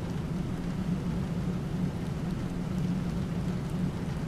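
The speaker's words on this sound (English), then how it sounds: "We'll figure out when the rain lets up." Rain falling during a storm, a steady dense low rumble and hiss that holds constant throughout, with no talking.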